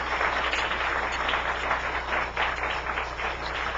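Applause from a church congregation, a steady patter of many hands clapping at moderate distance, fairly soft over a constant low hum.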